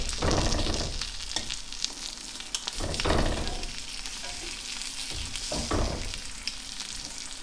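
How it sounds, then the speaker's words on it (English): Andouille sausage and an egg frying in butter and a little olive oil, making a loud steady sizzle with a few clattering bursts as the food is flipped and moved in the pan. "let's give our andouille a little flip here."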